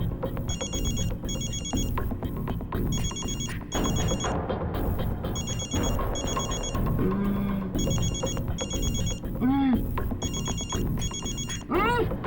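A telephone rings in repeated double bursts throughout, loud and steady, with music and other sounds playing underneath.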